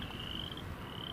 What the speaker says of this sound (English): So we're hearing frogs, or at least I believe they're frogs, to our left.